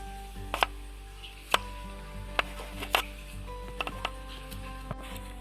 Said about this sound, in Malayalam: ഇനി നമുക്ക് ഇതുപോലെ തന്നെ എല്ലാം തന്നെ അരിഞ്ഞെടുക്കാം.